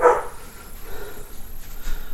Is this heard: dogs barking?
yes